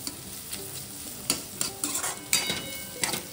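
Onions frying in a pan for bread pakoda filling, a soft steady sizzle with several scraping stirs of a spoon against the pan, close and quiet, no talking.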